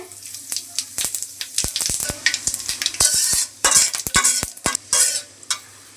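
Whole spices, cardamom, cinnamon, bay leaf and cumin, hit hot oil in a pan, giving a loud close sizzle broken by frequent sharp stirring clatters and scrapes of a spoon against the pan.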